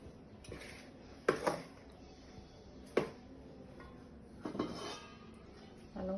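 Rice flour dough for kozhukatta is mixed with boiling water in a metal pot, giving a few quiet, scattered clinks and scrapes of a utensil against the pot, with no talking.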